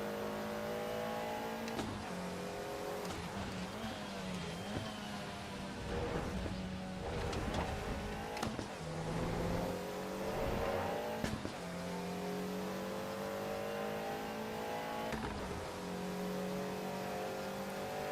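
Dallara race car in the Assetto Corsa EVO racing game, its engine revving hard and climbing through rising tones, with crisp, quick gear changes breaking the pitch every few seconds, loud and continuous throughout.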